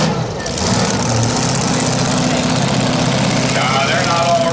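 Tractor engines at a truck and tractor pull roar continuously and loud, a dense, throbbing rumble with harsh mechanical rattle, as several machines run together.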